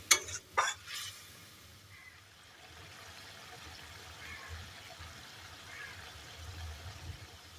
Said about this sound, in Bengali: জল দিয়ে ভালোভাবে নাড়াচাড়া করে সমস্ত কিছুকে মিশিয়ে 3 থেকে 4 মিনিট সময় নিয়ে ফুটিয়ে নেব।